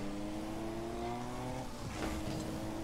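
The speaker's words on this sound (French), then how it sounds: "on entend passer les vitesses maintenant de la voiture" A car engine in Rocket League hums steadily with tonal whine, shifting pitch as gears change partway through; no talking.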